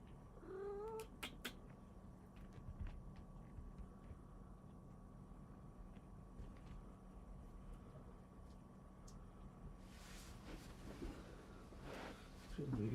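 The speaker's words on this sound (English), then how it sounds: "What's up, kitty?" Indoor cat giving a few short meows near the start and again at the end, fairly faint against a quiet room hum, with a person speaking softly between them.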